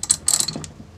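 Small ratcheting clicks from a wrench working a bolt on a longboard truck come in two quick bursts, close and fairly quiet, with a faint tick at the end.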